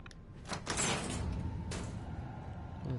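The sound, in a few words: magnetic door opening in the video game Fallout 4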